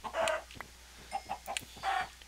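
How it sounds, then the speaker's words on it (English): Chickens in a snowy biome of the video game Minecraft cluck in short repeated bursts, three louder clucks spaced across the moment with quieter pecking ticks between, close and clear with no talk. "I'm pretty sure this is the chickens in a snowy biome, too"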